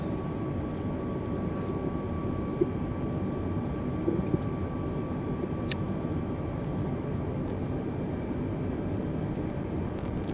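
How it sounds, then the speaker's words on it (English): A Cessna Citation business jet in a flight simulator gives a steady, continuous engine drone with an unbroken low rumble and a faint high whine, alone at an even level throughout. "It's a nice plane, the citation."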